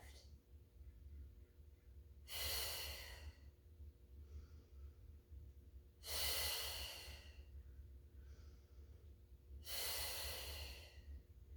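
Three slow, audible breaths during a Pilates mat class, each a broad airy rush lasting about a second, spaced roughly four seconds apart over a steady low hum.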